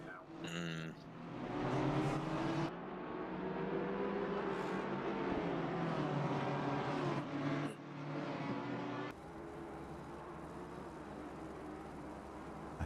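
Racing cars lap Mount Panorama in a racing video game, a continuous layered engine drone with shifting pitch as several cars run together, loud and steady, then a quieter hum after a cut.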